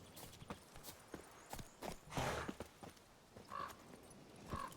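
Roach the horse walks in The Witcher 3, hooves clip-clopping in a steady, evenly spaced rhythm, fairly faint and close, with a soft snort partway through.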